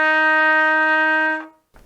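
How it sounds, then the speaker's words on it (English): A trumpet holds a sustained F with only the first valve pressed, one steady, bright, loud tone of about a second and a half that cuts off cleanly, with no talk over it. "For F, you have just the first valve like that."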